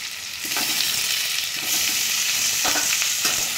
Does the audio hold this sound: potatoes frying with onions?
yes